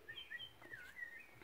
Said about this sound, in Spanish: Aquí es donde se aprecia el sonido de los pajaritos.